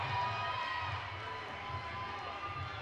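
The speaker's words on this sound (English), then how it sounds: "Crowd certainly enjoying it." Arena crowd at an Illyrian Fight Night Muay Thai bout between Ethan O'Donoghue and Norbert Gonzales, a steady low roar of cheering voices that stays even throughout.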